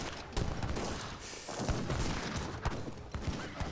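Cannon volleys and gunfire crack through a battle in Age of Empires 3, a dense run of booms and sharp reports over a constant roar of combat, with several louder hits standing out.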